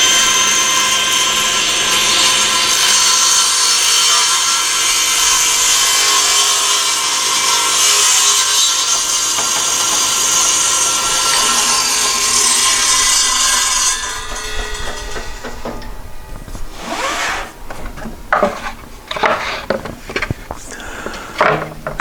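A saw cuts through a long wooden piece for a rotten cargo trailer door repair, using a shop-made crosscut sled: a loud, steady, sustained whine runs about fourteen seconds, then winds down into scattered rubbing and knocking of wood.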